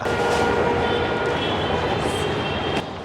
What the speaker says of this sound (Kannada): ಸರ್ ಪಕ್ಕದಲ್ಲೇ ಮೆಟ್ರೋ ಇದೆ